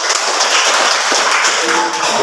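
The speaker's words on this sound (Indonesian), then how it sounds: "Tepuk tangan dulu" A classroom of schoolchildren clapping their hands in applause, a dense, busy patter of many claps carrying at a steady, fairly loud level for a couple of seconds, with no talk over it.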